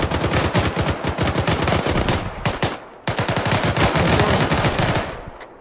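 Airsoft guns fire in long rapid bursts during a game, loud and close, with a short pause before the fast clatter resumes and then tapers off.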